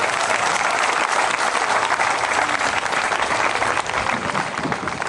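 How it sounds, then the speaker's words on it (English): A crowd at the reopening of the Eldridge Park Carousel in Elmira, New York claps in steady, dense applause that holds for the whole stretch with no voices breaking through. "How about another round of applause for Pat Sheehan?"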